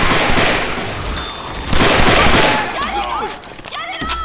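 Gunfire in Left 4 Dead 2 during an expert-mode multiplayer round: dense bursts of shots in close, rapid succession, with excited player voices and shouting over the top.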